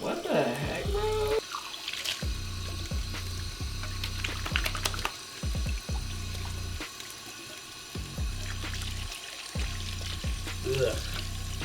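Water running from a bathroom sink faucet, a steady hiss and splash close by, with voices talking over it and some clatter.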